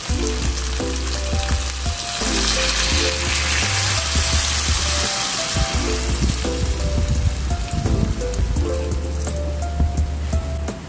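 Water hits a hot pan of creamy mushroom chicken, setting off a loud, continuous sizzle and bubbling hiss that holds steady at close range throughout, with no talk.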